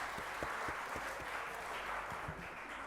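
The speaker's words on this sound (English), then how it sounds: "One applause for him again, please." Applause at a Somali Independence lighting ceremony, a faint, steady patter of scattered hand claps from a modest crowd, heard from a distance without talk.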